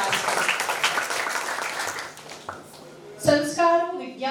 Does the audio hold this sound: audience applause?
yes